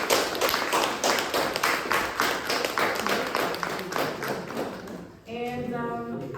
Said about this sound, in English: I want you to clap it up for yourself.